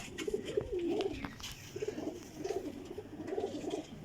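Pigeons, high-quality flying breeds, coo in a loft, several soft throaty calls coming in clusters through the clip with short pauses between them, fairly close and clear, with no talk.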